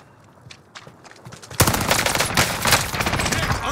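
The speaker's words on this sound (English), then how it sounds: "Shit, under heavy fire here." Heavy gunfire breaks out in a battle royale video game: after a quieter stretch of scattered shots and steps, dense rapid automatic fire suddenly erupts and keeps roaring loud and close.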